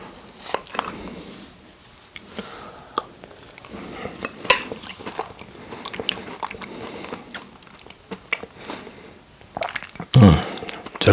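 Someone bites and chews crunchy baked apple crumble, with moist crunching and spoon clinks against a dish, close and fairly loud, a short voice near the end.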